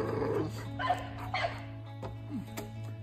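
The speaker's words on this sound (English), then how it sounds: "So, of course, she is going to bark and at the food." An XXL bully dog growls, yips and whimpers near the food in a kennel yard, with short harsh vocal bursts rather than clear full barks, fairly close by.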